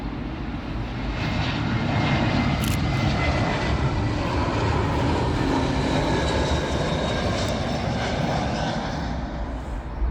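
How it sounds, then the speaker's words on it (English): A British Airways Airbus A320 jet landing on runway 27L at Heathrow Airport, its engines producing a loud, steady roar that holds at high level for the full duration. "Up next, we've got a British Airways A320. And this one's arriving in from Lyon."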